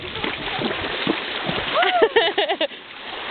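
A dog swims and splashes through water, broken-up sloshing running throughout with a voice talking over it near the end.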